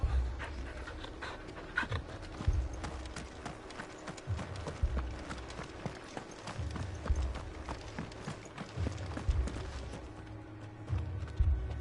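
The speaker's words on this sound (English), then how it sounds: "Mad dogs, the lot of them." Panting and whimpering from dogs in Final Fantasy XVI, mixed with hoof-like clip-clop steps and low thumps, a rhythmic, moderately quiet game soundscape with no talking.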